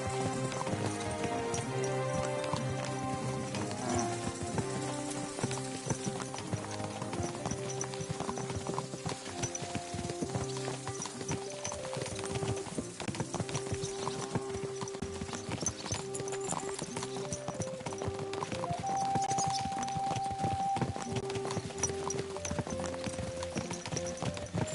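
Horse hooves clip-clopping steadily in the medieval role-playing game Kingdom Come: Deliverance II, a continuous rhythmic trot blended with background music and ambient game sound.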